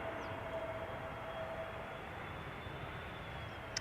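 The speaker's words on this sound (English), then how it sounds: "BA flight 430 arriving from London Heathrow, in the meantime touching down here" British Airways flight 430 from London Heathrow touches down at Schiphol's Polderbaan runway in warm weather, heard as a faint, distant, steady engine rumble with a thin whine over it.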